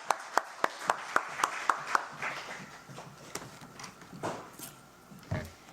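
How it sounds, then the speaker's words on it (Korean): A few audience members at a church women's Wednesday worship service clap sparsely to welcome a missionary, about eight distinct claps in a steady rhythm that then fade into room noise and faint shuffling. "박수로 환영해 주십시오"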